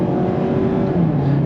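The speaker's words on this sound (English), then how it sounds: "But you gotta rev the engine, of course." A 2021 Mazda MX-5 Miata RF Club automatic convertible revs loudly and accelerates, its engine note climbing in a close, continuous drone.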